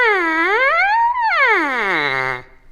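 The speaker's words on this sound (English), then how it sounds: "you play the trumpet by buzzing your lips into it." Lips buzzing into a trumpet mouthpiece held alone, making a loud, nasal buzz that slides smoothly down, rises, then sweeps down again in one continuous siren-like glide.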